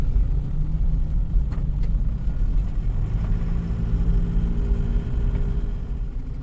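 Isuzu Panther driving through dense traffic on a busy city road in Depok, a steady low engine and road rumble heard from inside the vehicle, with no talk.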